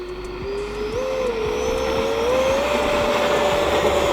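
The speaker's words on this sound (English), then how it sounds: "These things take off quick on asphalt." An E-flite F16 Thunderbirds electric ducted-fan RC jet takes off from an asphalt parking lot, giving off a loud, close, rising whine over a steady roar with no talk.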